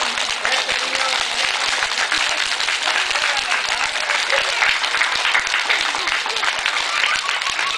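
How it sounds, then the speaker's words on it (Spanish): Audience applause at a kindergarten event for a new bathroom, dense steady clapping from many hands, loud and sustained throughout with no voices standing out. "Ok, el aplauso es para todos ellos."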